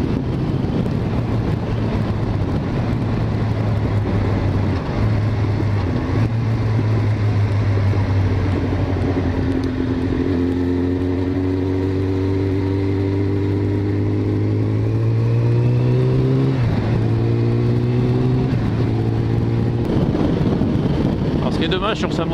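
A Suzuki Bandit 650S motorcycle riding on a road through chicanes, its engine droning steadily under heavy wind rush with pitch rising and falling as it accelerates and eases off; a voice talks briefly over it.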